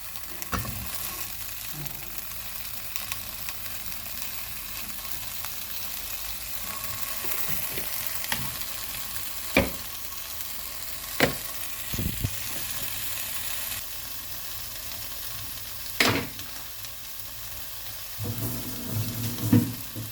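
Taiwanese short sausages sizzle steadily in a pan, a continuous frying crackle punctuated by sharp clicks and scrapes of stirring, close by with no talking.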